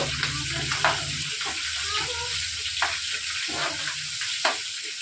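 Dried fish with ginger paste frying in hot oil, a steady close sizzle broken by a few soft stirring clinks and scrapes, no voices.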